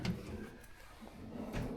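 A hotel room drawer slides open or shut with a couple of soft wooden knocks and a brief rumble, quiet and close in an otherwise still room.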